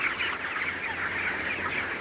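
Broiler chickens in a hot shed keep up a dense, continuous murmur of clucking and calling from many birds at once, steady and moderately near with no talk.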